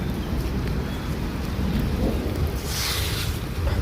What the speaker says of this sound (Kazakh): Найзағай гүрілдеп.